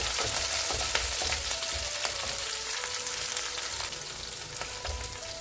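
Chopped ginger and green chilli frying in oil in a pan while making wheat rava upma, a steady close crackling sizzle with sharp spitting pops throughout, no talk.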